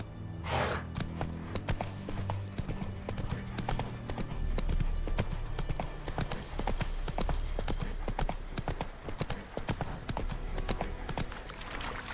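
Roach, the horse in The Witcher 3, gallops with rapid, steady clip-clop hoofbeats that carry on throughout at moderate, close volume, with no talk over them.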